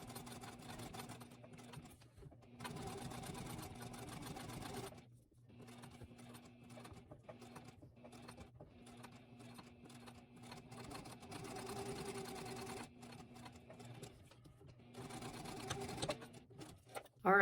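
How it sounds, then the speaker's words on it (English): A sewing machine stitches around the edge of a fabric reusable gift tag in several bursts of rapid, steady needle chatter, separated by short pauses, fairly quiet and close. "I'm going to go and stitch using a scant 1/8 seam allowance all the way around my perimeter"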